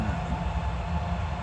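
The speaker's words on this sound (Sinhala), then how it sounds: "ඔය මෙට්‍රෝ එක යන පැත්තට දෙකක් ගියා" Metro train passing by near a frozen sea, a steady low rumble of rail cars held at moderate level throughout the short stretch.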